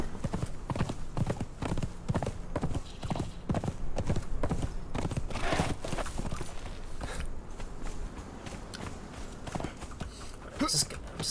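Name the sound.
horse hooves clip-clopping in video game Conan Exiles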